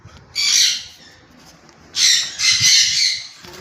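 Fully tame pet birds offered by a West Bengal bird seller let out loud, harsh squawks up close: one burst, a pause, then a longer run of repeated squawking with no talk.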